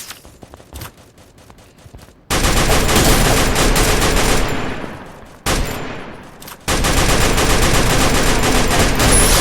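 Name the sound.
gunfire in a video game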